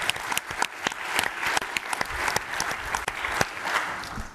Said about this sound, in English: I'll give them a round of applause first.